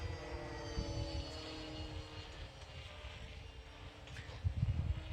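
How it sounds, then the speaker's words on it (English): The new motor on the mount of an FT Twin Explorer RC plane runs steadily, a sustained whining drone with a low rumble underneath and louder fluttering toward the end. "We're also testing out the right motor, new motor mount."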